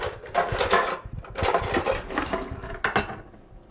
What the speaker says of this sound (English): So I'm trying to find a nice spoon here.